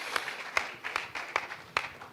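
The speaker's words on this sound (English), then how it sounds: "That deserves an applause." An audience applauding a speaker at a business talk, heard as sparse, evenly spaced single claps, fairly faint and slow rather than a full ovation.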